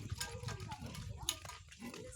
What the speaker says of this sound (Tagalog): Titingnan namin yung alagang baboy